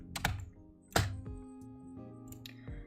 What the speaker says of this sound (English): You're also probably going to be hearing a lot of keyboard noise.